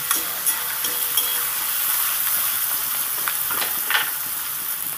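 Four large chopped onions fry in a pan for a spicy red chicken dish, a continuous hissing sizzle broken by a few scraping clatters of stirring, close and steady, with no voices.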